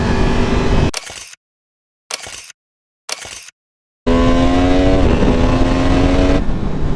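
A 2022 Yamaha MT-10 motorcycle engine runs loudly nearby, with three short sharp revving bursts separated by silence, then a sustained high-pitched roar whose pitch climbs steadily.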